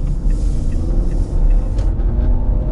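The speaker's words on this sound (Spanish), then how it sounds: "el motor no se escucha tan mal, el motor se escucha bien, el motor se escucha de buena calidad" A 2024 Chevrolet Aveo LT Plus accelerates hard, its engine giving a continuous low, throaty rumble heard from close range with no talking.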